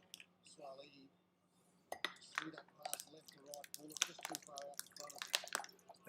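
Water trickles and drips into a glass in small, quiet splashes with light clinks, faint and close, while voices murmur intermittently in the background.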